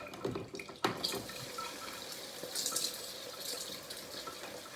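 Tap water running steadily into a jug while lamb milk formula is being mixed, a soft continuous splashing stream heard nearby after a brief clunk.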